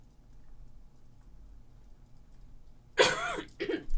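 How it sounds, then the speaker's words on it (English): Near silence, then a couple of sharp, raspy coughs from a lingering post-flu cough close up near the end, one right after the other. "And I have this cough."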